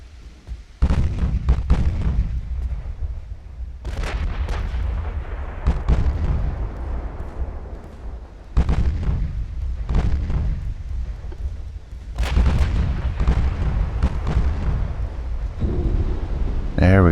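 Heavy booming impacts in a naval battle from the Ultimate Admiral: Dreadnoughts warship game, several loud deep explosions spaced a few seconds apart, each with a rumbling tail, as torpedoes and shells strike ships.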